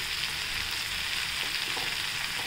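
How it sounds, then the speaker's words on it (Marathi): Green chilies dropped into garlic frying in hot oil for a dry fenugreek vegetable dish, giving a steady loud sizzle and crackle close by for the whole stretch. "आपण याच्यात लसूण छान तळला गेलाय, आता मिरची टाकूया।"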